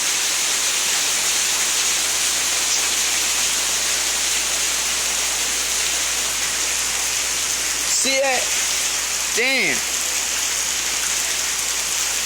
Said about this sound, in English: Every time it's raining more, you know?